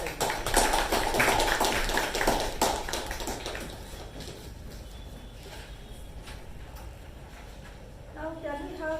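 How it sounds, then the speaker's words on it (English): A Toastmasters meeting audience claps for two speakers, a dense, loud round of applause for the first few seconds that then thins and fades into quieter room noise. "can we have a huge round of applause for Toastmaster Anusha and Toastmaster Sharanye"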